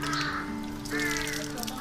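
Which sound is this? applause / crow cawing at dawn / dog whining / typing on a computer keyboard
crow cawing at dawn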